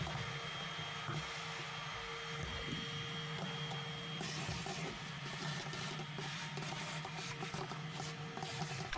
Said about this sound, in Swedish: Jag ska gå och hämta en liten dammsugare och dammsuga lite här i först.